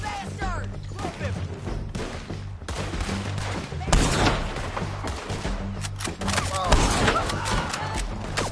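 Heavy gunfire in Red Dead Redemption 2, a dense run of loud close shots and volleys with booming impacts, shouting voices mixed in throughout.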